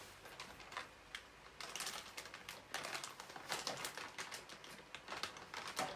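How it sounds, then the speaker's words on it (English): Wet wipes pulled from a soft plastic pack during a paper-crafting session: a run of quick crinkly rustles and soft tearing rasps, close and fairly quiet, with no talking. "Sorry, I'm just getting wipes out."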